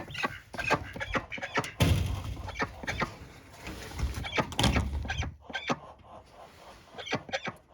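A rare-breed fighting duck in a poultry coop gives a run of sharp, rapid calls, gull-like and uneven, with scuffling noise in between.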